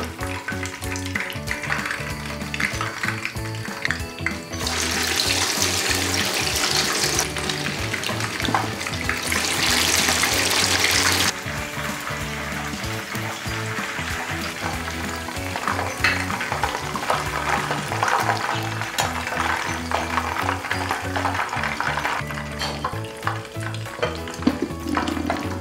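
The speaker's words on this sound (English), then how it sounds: "We're going to close this lid and let it simmer inside while we're making the other balls." Meatballs cooking in broth in a covered pot give a steady, loud bubbling sizzle for the whole stretch, with brighter hissing bursts partway through and no voices.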